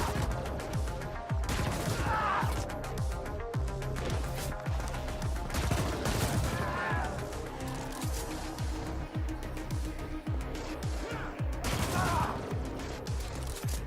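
Rapid gunfire from the player's weapon in the video game The Ascent rattles in dense bursts across the whole stretch, loud and close, with impacts and game effects mixed in.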